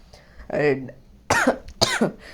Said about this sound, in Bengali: কাশি আসতেছে আমার অনেক